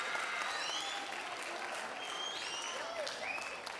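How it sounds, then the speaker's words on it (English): An audience at a university book award ceremony applauds students on stage, a steady, even wash of clapping heard from a distance with a few high whistles cutting through. "Let's give a round of applause to the students at Bowie."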